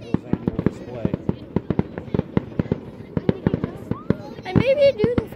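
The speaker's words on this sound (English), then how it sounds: "He makes fireworks." Fireworks at a city's annual public display, with a rapid run of sharp bangs and crackles, some loud and close, while people talk and exclaim in between.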